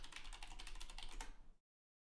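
A quick burst of computer keyboard typing for a search query, rapid close key clicks for about a second and a half before cutting to silence.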